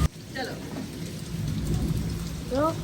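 Heavy rain pouring steadily with a low thunder rumble in the background, close and dense, with brief chirps or voice-like sounds rising over the downpour.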